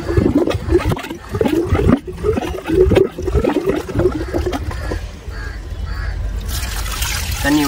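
Steady gushing and splashing of water flowing out under pressure from a weak three-phase submersible motor pump, loud and close, with a continuous churning rush and no talking.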